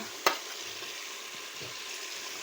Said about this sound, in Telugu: తర్వాత అయితే అల్లం పేస్ట్ అయితే వేసుకుంటున్నా